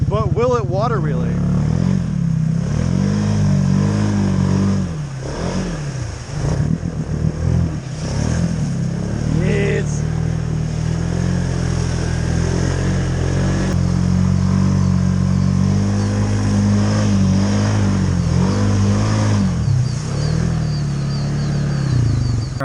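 Can-Am Outlander XMR 700 Gen 3 ATV driving and attempting wheelies through water on rain-soaked trails, its engine revving and surging continuously and close, with a voice talking over it.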